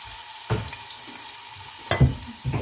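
Onion being added to a cup of hot oil for karahi chicken, frying with a low, steady sizzle broken by a few soft bumps and stirring clatters, no voices.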